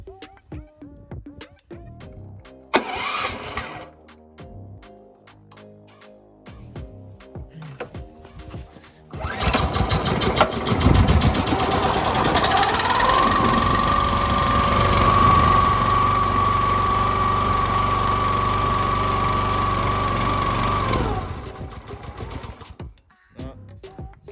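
A 420 cc small engine cold starts with a sudden catch after quiet fiddling and a sharp click, then runs loud and steady with a buzzing, slightly uneven idle for about twelve seconds before shutting down and winding off.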